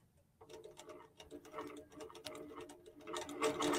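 A QBOT V3 robotic quilting machine stitches a line-quilting pattern, giving a fast steady ticking and clattering of the needle mechanism, fairly close and moderately loud, growing busier toward the end with no voices.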